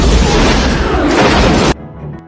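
A bomb hidden inside a box goes off in an action film, a loud, dense roaring blast that fills the whole sound and then cuts off sharply into a faint rumbling tail.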